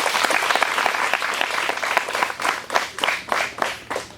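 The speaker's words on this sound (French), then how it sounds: "Je demande de l'applaudir." Crowd at a school excellence-prize ceremony applauds the top-ranked boy student, dense clapping that thins into separate rhythmic bursts toward the end, with no voices over it.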